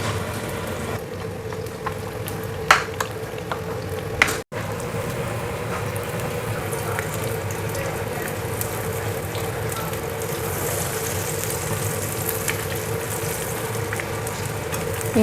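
Snack dough made with sasupen frying in oil over a low flame, a steady even sizzle and crackle throughout with a couple of brief knocks.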